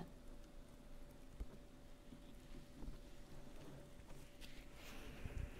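Steady rain falls outdoors, a faint, even hiss with soft scattered drops and occasional low rumbles, continuing throughout without any voices.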